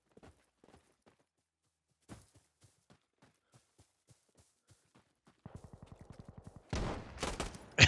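M249 light machine gun fire in the shooter game Insurgency: Sandstorm: scattered faint clicks and taps, then a quick burst of about a dozen rapid shots, followed by a louder roaring blast at the end.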